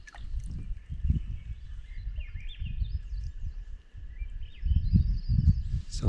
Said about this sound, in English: That's that bird I was talking about.